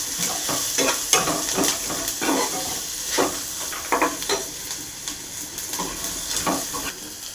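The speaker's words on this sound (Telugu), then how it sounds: "కొంచెం పసుపు యాడ్ చేసిన తర్వాత కలుపుకోవాలి. బాగా మిక్స్ అయ్యేవరకు." Poha with turmeric and soft-cooked onions is stirred in a hot pan, with repeated scraping strokes of a spoon over a continuous soft sizzle, close and with no talk.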